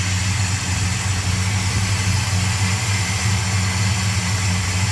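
A 1970 Dodge Coronet with a 340 Six Pack V8 idles close by, its exhaust a steady, even low rumble with a constant drone and no revving.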